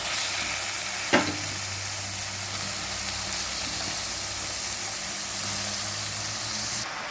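Banana stem pieces cook in a spiced oil tempering with a continuous close sizzle and hiss, marked early by one sharp clack of something dropped in or stirred, with no one talking.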